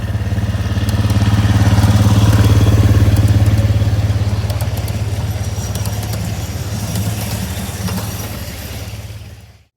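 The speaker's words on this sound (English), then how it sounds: "this diesel outline engine coming around the curve is a railroad supply GB40" A miniature live steam railroad's GB40 diesel outline locomotive, built in the mid-1980s, runs around a curve with a steady, rhythmic mechanical drone that swells as it passes close by, then fades away.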